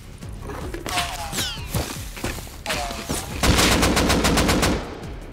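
AK rifle fire in Rust, several sharp close shots and short bursts scattered over a few seconds, ending in a rapid automatic volley, with thuds and movement noises between the shots.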